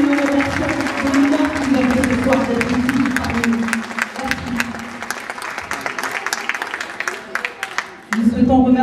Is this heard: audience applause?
yes